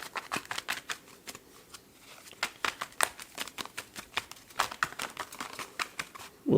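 A Tarot Apokalypsis deck is shuffled by hand in a rapid, uneven patter of close crisp card slaps and riffles.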